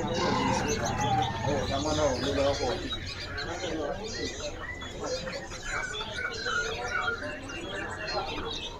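Songbirds, including pelamboyan, chirp and whistle among the cages of a bird market, their busy overlapping calls running under steady nearby chatter and market bustle.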